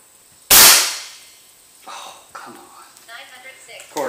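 One sharp, loud crack from an FX Dreamline air rifle firing a 24-grain slug, decaying quickly, followed by fainter clicks and handling noises with someone talking nearby.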